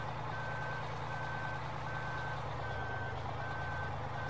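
Truck reversing alarm in Farming Simulator 15, a steady evenly spaced series of beeps sounding alone over a constant low engine rumble throughout.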